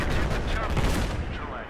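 Gunfire in the shooter Battlefield 4, a dense continuous rattle of shots with bursts overlapping throughout, loud and close, with a voice talking faintly underneath.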